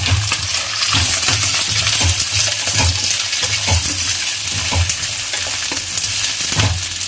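Onions, green chillies and garlic fry in a pan with a loud, steady sizzle, while a spoon stirs and knocks against the metal in scattered clinks, close to the ear and without voices.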